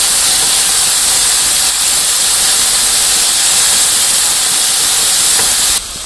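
Ground spice paste hits a hot pan with cumin and sizzles in a loud, continuous hissing fry that stays steady and close for several seconds before dropping slightly near the end.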